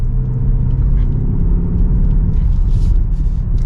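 A 2023 BMW XM on the move, its engine a steady, loud low rumble with road noise from inside the cabin, holding an even drone without sharp revving.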